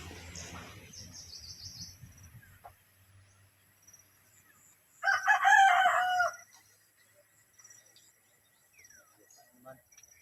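A rooster crows once, loud and close, a drawn-out cock-a-doodle-doo in an otherwise quiet yard, with faint chicken clucks and a voice speaking briefly at the start.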